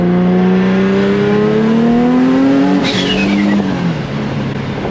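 A turbocharged Nissan Z makes a boost pull, its engine revving loud and close with a climbing, strained tone that peaks and then drops sharply as the throttle lifts, with a whooshing rush over the top.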